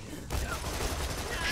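Rapid gunfire bursts in Borderlands 2 form a dense, loud crackling barrage that carries on steadily for the short stretch.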